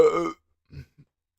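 A loud, close burp rumbles for about a third of a second, followed after a pause by two short, quieter grunting belches.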